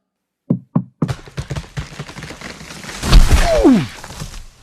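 Two quick, hollow knocks on wood ring out in near silence, followed by a looser run of thumps and rustling.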